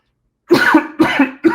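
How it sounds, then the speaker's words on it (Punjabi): A man coughs three times in quick succession, close and loud, with short harsh bursts after a moment of silence. "ਖੰਘ ਆ ਰਹੀ ਆ"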